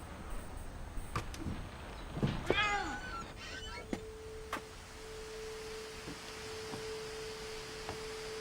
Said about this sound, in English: I can hear a kitty.